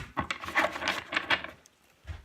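Tarot cards being shuffled by hand up close, a quick series of soft papery riffles and rubs, then a pause and one last brushing sound, with no talking.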